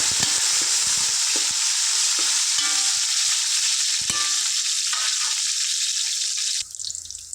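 Mint and coriander sizzle loudly in oil in a pot for chicken fry biryani, a constant hiss broken by sharp scraping stir strokes, then it drops away abruptly near the end.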